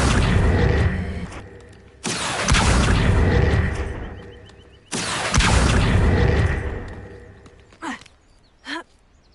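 Confringo explosion spell in the video game Hogwarts Legacy: three loud booming blasts a couple of seconds apart, each with a rumbling decay, followed by softer short whooshes.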